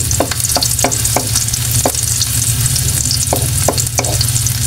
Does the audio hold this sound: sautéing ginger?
yes